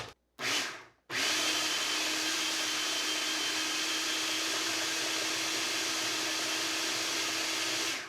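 A blender runs steadily at high speed through pumpkin cheesecake filling sweetened with monk fruit and erythritol, a loud, even whirring motor drone after a couple of brief starts in the first second.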